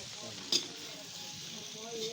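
A vegetable bhaji sizzles in a pan with a steady hiss, broken by one brief scrape or clink of the spoon as it is stirred.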